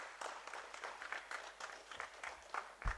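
Audience at a stage play applauding to welcome the performers, a soft scattered clapping heard from a distance with uneven bursts, fairly faint throughout.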